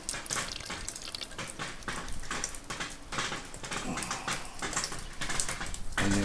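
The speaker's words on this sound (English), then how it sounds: "we're going to filter the fluids off of this" Liquid from home gold refining is poured through a filter and funnel into a Pyrex dish, making a continuous splashing, trickling rush that swells in pulses and ends with a brief clink.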